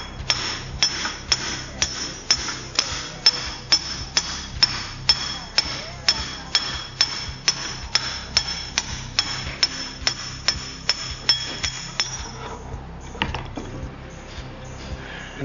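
A hammer strikes a brass drift in a steady rhythm, about two blows per second, driving out a king pin bushing on a Mercedes-Benz; sharp metallic clinks ring close and loud, stopping near the end.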